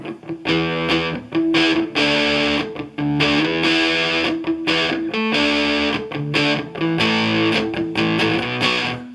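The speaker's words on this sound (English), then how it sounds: "So maybe I want to set that for more of a crunch thing." Crunchy distorted electric guitar through a Crate GT200 DSP amp at low bedroom volume plays a chugging riff of palm-muted chords, loud and up close, with no voices.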